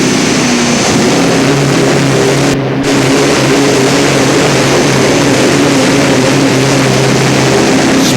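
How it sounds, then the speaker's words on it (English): Herbie, a tractor pulling vehicle powered by two Ford V8 GAA engines, roars continuously at full power, a loud dense engine drone with a steady low hum lasting throughout. "It's driven by Theo Customans with 2 Ford V8 GAA engines"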